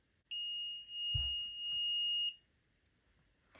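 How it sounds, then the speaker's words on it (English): A gel polish steamer's timer sounds one steady, shrill electronic tone lasting about two seconds, fairly loud in a quiet room, followed by a brief faint click. "as you just heard, the timer did go off"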